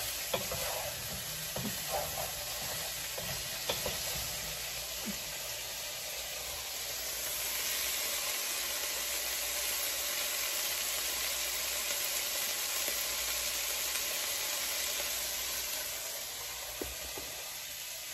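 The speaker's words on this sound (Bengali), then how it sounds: "ফুলকপিটা ভাজতে অনেকটাই টাইম লাগছে" Cut cauliflower pieces frying in a pan give a steady, dense sizzle with occasional stirring scrapes, loud and continuous for the whole stretch with no voices.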